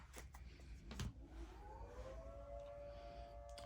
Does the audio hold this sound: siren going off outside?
yes